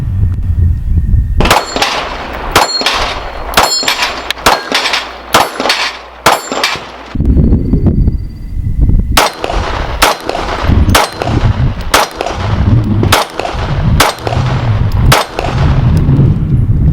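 A 2019 model Sig P365 pistol fires about sixteen loud, sharp shots in two quick strings with a short pause between them, each crack ringing out with echo.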